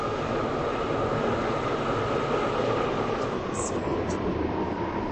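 A Class 730 train in the Roblox game runs steadily with a continuous rumbling roar, and faint brief high tones come in near the middle.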